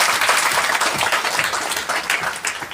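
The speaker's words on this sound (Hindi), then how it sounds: "जोरदार ताली बजाइए" An audience at a Hindi speaking event bursts into loud applause, a thick crowd of clapping with some uneven surges and dips in level.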